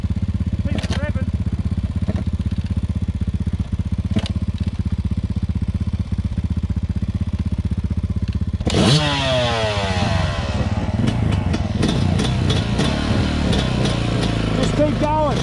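A motorcycle started and ridden with the throttle held open: a steady engine drone, then at about nine seconds a loud surge of revving and acceleration with rising and falling pitch, close by, with some speech around it.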